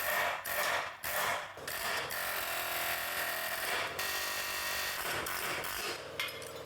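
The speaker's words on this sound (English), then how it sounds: "I'm just gonna air hammer through this bracket" Air hammer cutting through a suspension bracket on a 1994 Chevy K1500 truck, a loud, harsh, rapid metallic chattering in several long bursts with brief pauses between them.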